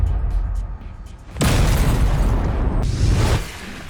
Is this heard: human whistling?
no